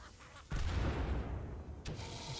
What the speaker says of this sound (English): They're like grenade launchers.